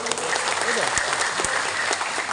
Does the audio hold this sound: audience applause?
yes